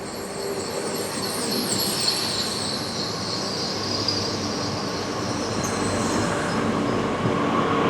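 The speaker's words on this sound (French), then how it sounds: "Le train TER en provenance de Bourg-en-Bresse et à destination de Lyon-Vèze entre en gare." A TER regional train enters Lyon Perrache station with loud sustained wheel squeal and a rolling rail rumble, the squeal wavering throughout as the train slows along the platform, with no talk.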